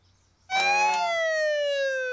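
Cartoon red fire truck siren, a loud close wail that starts abruptly with a burst of noise and then glides steadily downward in pitch, alone without talk.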